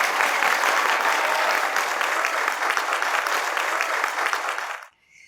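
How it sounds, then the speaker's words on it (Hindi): Studio audience at a comedy stand-up show applauding steadily and loudly for about five seconds before the clapping cuts off abruptly into near silence. "अब अपने लिए तालियां बजा दें।"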